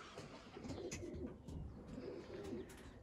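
Racing pigeons coo softly inside a loft, several birds overlapping in low, throaty rolling calls with faint wing and perch noises, steady and close throughout with no voices.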